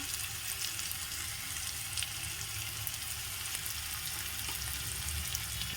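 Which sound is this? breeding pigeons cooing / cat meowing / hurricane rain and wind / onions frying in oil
onions frying in oil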